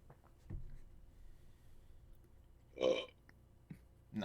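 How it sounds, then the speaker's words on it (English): A single loud burp from a woman dropping briefly into a voice chat during a tabletop role-playing session, rising out of quiet background noise with a faint voice murmuring before it. "She just popped in, burped, and left."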